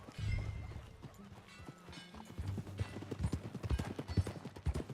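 Horse hooves clip-clop steadily in Red Dead Redemption 2 as a rider sets off, the beats growing quicker and denser toward the end, with a faint voice near the start.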